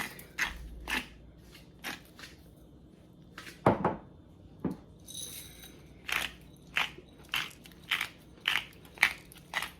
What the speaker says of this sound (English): Let me go ahead and salt and pepper my eggs.